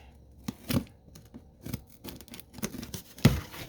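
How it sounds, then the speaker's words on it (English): A blade slicing through packing tape on a small cardboard shipping box, close up, in a few short scraping strokes with crinkling and tearing between them. "let me go ahead and cut the tape on this real quick"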